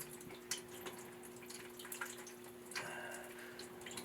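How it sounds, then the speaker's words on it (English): Water runs and drips out of a disconnected tub plumbing pipe during a bathroom shower removal, a faint steady trickle with a few soft splashes and clicks. "There's all the water. And so this is just running out of the shower."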